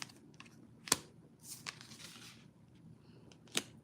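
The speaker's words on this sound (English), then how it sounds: "Y'all watch me shuffle, yeah?" Tarot cards being shuffled in several short bursts of riffling and slapping, quiet and close, with soft handling noise between the louder snaps.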